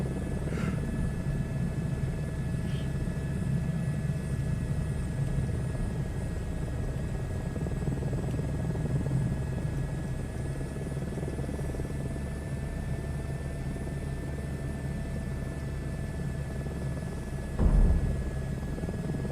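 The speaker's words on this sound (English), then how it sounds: "I'm trying not to drag the rotor blades on the ground again." Helicopter rotor and engine in a VR flight game, a steady droning hum with faint high whine running throughout, with a brief thump near the end.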